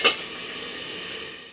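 Potatoes and chatu frying in a pan give a steady soft sizzle after a brief sharp clatter at the start, close and moderately loud with no talk.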